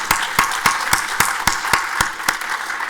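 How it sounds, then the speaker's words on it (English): A small audience at a book talk claps in a steady, fairly close round of distinct handclaps, with sharp regular beats and no voices over it. "Now we should clap."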